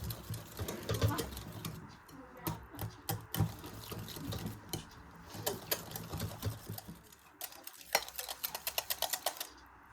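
Avocado ice candy mixture stirred by hand, with rapid clicking and tapping of a utensil against the bowl in uneven bursts, close and fairly quiet, with no voices.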